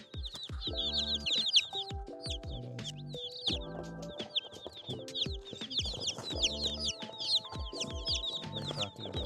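A crowd of meat chicken chicks chirps and peeps nonstop in a brooder, with dense overlapping high calls and some lower clucking tones, close and lively.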